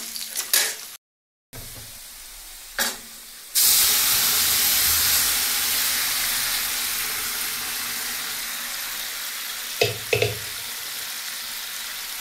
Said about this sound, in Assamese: এতিয়া মই ঔটেঙা আৰু কচুখিনি ঢালি দিম ইয়াত।